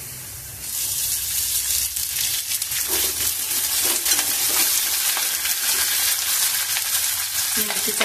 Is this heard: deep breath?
no